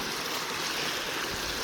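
A creek in the eastern Kentucky Appalachian backcountry runs full after rain, a steady close broadband rush of flowing water that fills the whole moment without pause or voices.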